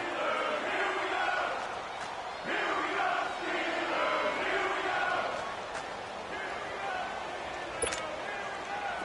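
Crowd noise swells in a Steelers versus Ravens football video game ahead of a big third down, a steady broad roar of cheering that rises and falls across the stretch with a commentator talking over it.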